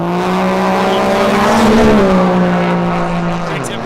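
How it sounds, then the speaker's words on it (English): A diesel drag racing truck at the NHRDA World Finals spools up, with a loud sustained engine and turbo roar. The pitch rises and swells before easing slightly near the end. "Schmidt, Morrissey, spooling up"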